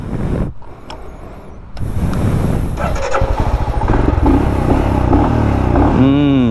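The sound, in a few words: motorcycle exhaust note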